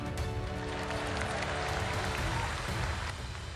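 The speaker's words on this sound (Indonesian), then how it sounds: "Tepuk tangannya kurang semangat." An audience at a political speech claps in a dense, continuous wash of applause, fairly faint and distant, with crowd murmur mixed in.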